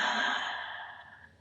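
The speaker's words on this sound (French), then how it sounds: "Bâille pleinement" A yawn during a guided meditative breathing session, one long, airy, breathy exhalation that starts strong and fades over about a second and a half, close and alone.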